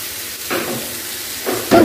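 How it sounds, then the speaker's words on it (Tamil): Mushrooms sautéing over a high flame give a steady, close sizzle, with two louder bursts of frying and stirring, the second one near the end. "ஒரு 4 to 5 மினிட்ஸ் நீங்கள் வந்து வதக்கி எடுத்தால் போதும், நம்மளோட மஷ்ரூம் வந்து ரெடி ஆயிரும்"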